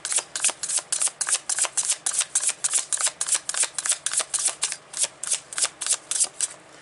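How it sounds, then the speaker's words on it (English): A deck of tarot cards being shuffled close up, a rapid series of crisp riffling bursts repeating rhythmically about three times a second, with no talking. "So we're going to pull some more cards."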